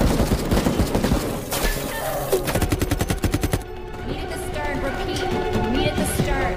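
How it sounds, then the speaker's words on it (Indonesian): Rapid bursts of automatic gunfire in an action film, sharp repeated cracks, loud and dense, mixed with a dramatic soundtrack and some voices. "Ocelot pun menyuruh anak buahnya untuk memberondong tim ini dengan tembakan"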